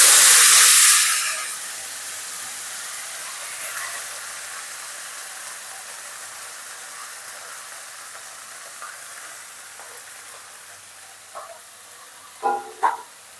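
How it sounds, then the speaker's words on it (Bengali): Greens fried in ghee with garlic in a pan: a loud hiss bursts at the start, then settles into a steady low sizzle, with a few light utensil knocks near the end. "এবারে শাকটা ঘি আর রসুন একসঙ্গে ভাজা হয়ে গেছে, শাকটা চাপিয়ে দেবো"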